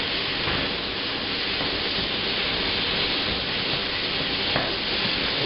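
Spices fry in a pan with malt vinegar, giving a steady, dense sizzle that stays even and close throughout, with no voices over it.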